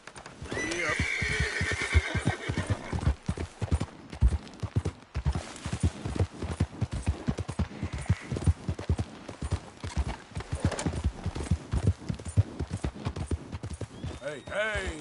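A horse gallops in the Red Dead Redemption 2 video game, with a fast, steady clip-clop of hooves and occasional neighs and whinnies. A voice is heard now and then over the hoofbeats.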